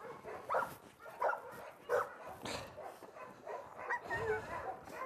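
Yakut hunting laika, an aboriginal working dog, barks in a short run of sharp, evenly spaced yaps at close range, with faint whimpering sounds mixed in and no talk over it.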